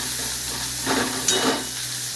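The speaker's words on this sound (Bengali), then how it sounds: "এই পেঁয়াজটা একটু ভাজা হয়ে গেছে, বেশি লাল না, এইরকম থাকলেই হবে, এইরকমই ভাজবেন" Chopped onion frying in a pan for a rohu fish curry, a steady sizzle with soft stirring scrapes rising briefly in the middle, close and continuous.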